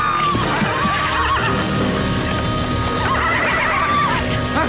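Loud, chaotic noise with a horse whinnying repeatedly amid crashing and clattering sounds.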